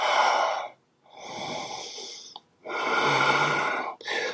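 Deep, slow breaths during a yoga session, long airy inhales and exhales separated by brief pauses, close to the microphone and alone without talk.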